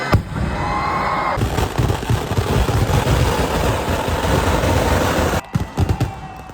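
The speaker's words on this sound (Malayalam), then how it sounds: "പിന്നെ കമ്മിറ്റിക്കാർ വന്ന് വെടിക്കെട്ടിനെ തിരികൊളുത്തതാണ്." Temple festival fireworks in Kerala crackle and boom in a loud, dense barrage, continuous rapid bursts merging into a roar that cuts off sharply near the end, followed by a few scattered pops.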